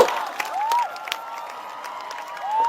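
Rally crowd applauding and cheering for Uncle Somyot at an outdoor political protest, a steady wash of clapping with a few whistles and shouts rising over it, fairly loud throughout.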